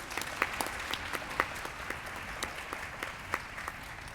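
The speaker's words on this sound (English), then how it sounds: "So can we give a round of applause to Coach Dan Mullen in his absence?" A modest audience at a 2015 champions award ceremony claps steadily, with individual sharp hand claps standing out from a soft continuous patter, fairly quiet and distant throughout.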